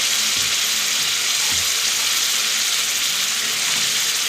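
Chicken masala frying with ground spices in a pan gives a dense, constant close sizzle across the whole stretch, with faint low stirring thumps underneath and no voices.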